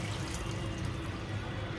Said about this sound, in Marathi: अशा प्रकारे पाणी टाकून धुवून घेतले